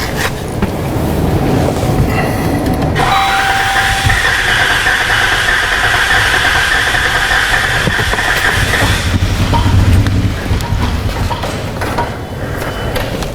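A 2014 Chrysler Town & Country 3.6L with a misfire cranks and starts, then runs loudly close up with a steady whine and rumble throughout.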